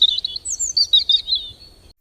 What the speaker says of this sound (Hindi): चारों ओर चिड़ियों की चहचहाट गूंज रही थी।